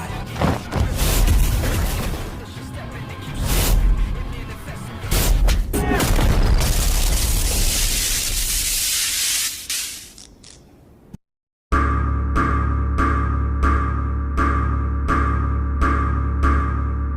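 A huge anime explosion from the Red technique in a Gojo versus Sukuna fight: heavy rumbling booms and crackling blasts for several seconds that fade out, then a short silence and a pulsing, rhythmic musical sound effect.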